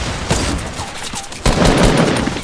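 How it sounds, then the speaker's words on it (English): LMG gunfire in a Fortnite match, rapid bursts of loud gunshots with a short gap before a heavier volley, mixed with game sounds. "What the hell is he shooting with? LMG?"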